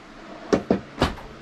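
A big wide drawer in a 2021 Jayco Redhawk 29XK Class C RV slides open with a few quick close knocks and thuds in a row, then a softer clunk, alone in a quiet interior.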